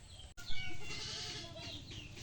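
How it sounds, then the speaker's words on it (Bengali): Goats bleat close by, a couple of wavering, nasal calls that overlap over a short stretch, fairly faint, with no talk over them. "এই যে দেখেন ছাগলগুলা"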